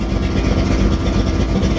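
A 1932 Ford Roadster street rod with a 502 big block V8 idles at close range, a steady, loud, rumbling drone with a low throb running unbroken through the whole stretch and no voices over it.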